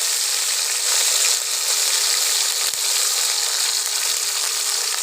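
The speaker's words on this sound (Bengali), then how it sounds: "তেলে টমেটো কুচি দিলাম" Chopped tomatoes fry in hot oil with a loud, dense, unbroken hiss and crackle, close up and alone for several seconds, with one brief knock partway through.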